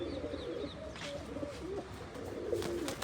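Pigeons coo in soft repeated rolling calls, close by, over a steady outdoor background hum.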